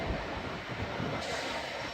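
A train headed by a Class 66 locomotive rumbles steadily past on the West Coast Main Line at Nuneaton, a continuous loud wheel and engine roar with no voices.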